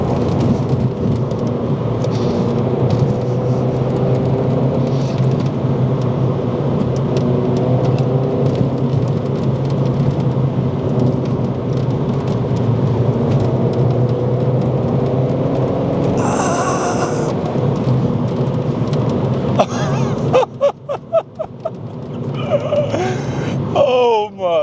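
A rebuilt Mini Cooper S with a manual gearbox drives along, its engine droning and climbing in pitch through the gears with shift breaks, loud and close, ending in choppy revving and road noise.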